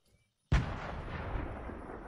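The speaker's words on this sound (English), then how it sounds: "Some explosions." A single loud, booming explosion in a video game bursts suddenly out of silence, then a long rumbling decay rolls on.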